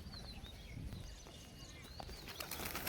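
Pigeon wings flap in quick, fluttering bursts against a busy, noisy background, with faint chirps drifting through.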